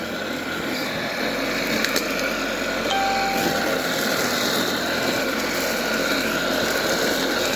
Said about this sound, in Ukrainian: Мотор від стиральної машинки.